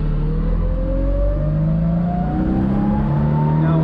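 A classic Fiat 500 with a four-speed gearbox drives along, its small engine a loud, steady drone close by, the pitch rising gradually as the car accelerates through the gear, with no talk over it.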